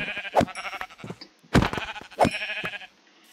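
Sheep bleat in the Minecraft video game, three separate short calls spaced across a few seconds, clear and fairly near, with no voices.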